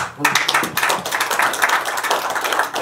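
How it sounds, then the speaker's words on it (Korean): Audience applause at a Syngman Rhee forum in Los Angeles, dense, lively clapping from a crowd with a few voices mixed in, fairly close and steady. "다시 박수로."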